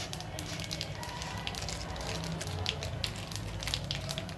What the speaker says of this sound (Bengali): এবার ফোড়ন হিসাবে আমি দেব প্রথমে কালো জিরে, বেশ খানিকটা কালো জিরে।